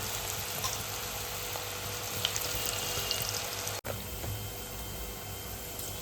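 Okra pieces frying in hot oil give a steady, dense sizzle throughout, moderately quiet and close, with a brief dropout near the end and no voices.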